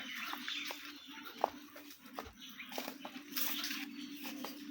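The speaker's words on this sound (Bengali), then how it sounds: "এই যে পানি ট্যাঙ্ক থেকে পানি যাচ্ছে।" Water pours out of a tank while a pond is drained for fishing, a steady broadband rush with scattered small splashes and clicks, fairly faint and continuous throughout.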